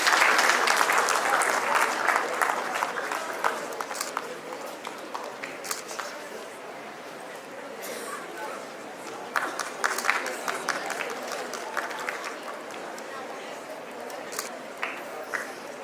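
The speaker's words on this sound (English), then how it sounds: "Let's give the winner a huge round of applause." Applause from an audience at a school awards ceremony fills the space, strong at first and then settling into steady, scattered clapping that carries on for about fifteen seconds with brief louder bursts.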